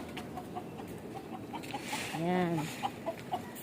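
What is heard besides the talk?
chickens clucking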